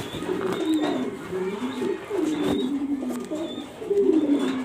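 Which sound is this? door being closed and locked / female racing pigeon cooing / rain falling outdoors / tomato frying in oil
female racing pigeon cooing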